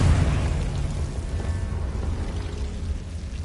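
A Confringo spell blast in Hogwarts Legacy bursts with a loud booming rush at the start, then decays into a rumbling, crackling tail.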